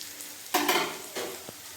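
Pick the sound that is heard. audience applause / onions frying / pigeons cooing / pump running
onions frying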